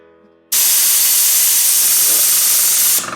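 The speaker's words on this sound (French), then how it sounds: "il faut d'abord enlever toute l'air, toute la pression qu'il y a dans la cuve. Ok, donc on appuie ici un coup et vous allez entendre le bruit." Compressed air bursts out of a Fengda compressor tank as its pressure is released: a loud, steady, close hiss that starts abruptly and runs for about two and a half seconds before cutting off.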